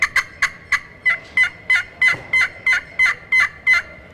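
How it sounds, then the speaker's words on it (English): A pot-style friction turkey call produces a rapid series of about a dozen sharp, evenly spaced cutting notes, loud and close with no voices over them. "When you cut, it's just like breaking the pencil and snapping it off."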